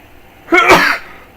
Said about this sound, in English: Just sneezed over that.